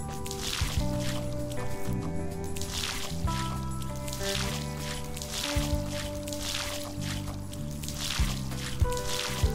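Watering crops in the Dave the Diver game, a repeating series of soft splashing, squishing water bursts layered over looping cheerful game music with sustained tones, each splash arriving in steady rhythm.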